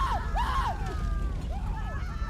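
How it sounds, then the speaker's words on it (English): A halfling screams while burning to death in his kitchen in the video game Overlord, with sliding, wavering vocal cries repeated across the clip over a steady low rumble of fire and game noise. "That was a great scream we just got to hear."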